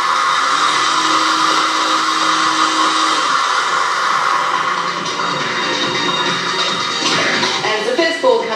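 A Powerball lottery draw machine whirs and churns loudly and steadily as the balls mix on a 1999 televised draw, and faint rattling builds toward the end.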